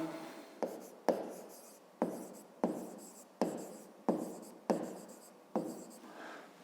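Pen or marker strokes on paper during a fifth-grade math lesson, roughly nine crisp scratching strokes in a steady rhythm, close and clear with no talking.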